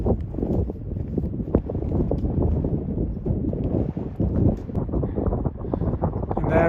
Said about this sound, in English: It's pretty wild and windy up here. There's a cold wind coming off that glacier.